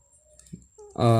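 Computer keyboard keys tapped while entering numbers into SPSS Statistics 18, a few quick faint clicks followed by a voice starting up.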